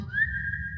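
A light, sustained whistle of a single held note from a Pinocchio song rises slightly and then holds steady over a soft low musical backing.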